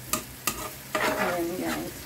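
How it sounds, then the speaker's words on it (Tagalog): Chicken feet sautéing in a hot pan, sizzling and frying while being stirred, with a few sharp scrape-and-stir bursts over a steady crackle, close and fairly loud, no talking. "Gisa natin para hindi malansa yung ating chicken feet."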